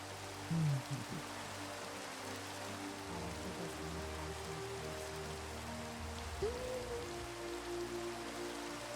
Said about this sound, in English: It's kind of it's kind of raining, so that's why we've just been sitting here.